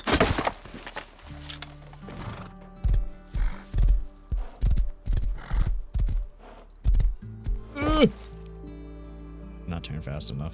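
Rhythmic clip-clop of horse hooves in the video game Rust over a steady tonal game soundtrack, with a brief whinny-like swoop partway through; a voice talks in the background.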